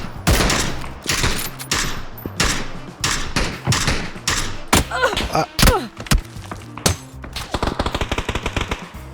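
Gunfire in the video game PUBG comes as loud, repeated sharp shots, first in irregular bursts and then in a fast, even automatic string near the end, with faint speech in places.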